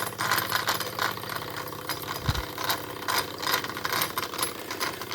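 A Wilesco D405 model steam engine runs steadily, its busy mechanical rattle and chuffing ticking along continuously at close range, with a brief low thump partway through.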